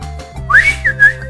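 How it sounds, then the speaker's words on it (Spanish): A man whistles in a few short, shrill rising and wavering notes, close and clear over a low steady background hum. "A ver, chifla."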